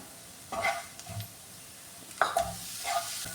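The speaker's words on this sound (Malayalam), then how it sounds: "ടൊമാറ്റോ ഇതിലിട്ട് നന്നായിട്ടൊന്ന് പരട്ടി എടുക്കാണ്" Tomato being stirred and sautéed in spice masala for an okra curry, a soft low sizzle broken by several scraping strokes of a spoon against the pan at irregular intervals.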